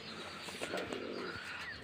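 Pigeons coo softly in low, rolling calls against a quiet, steady background before being given water to bathe in.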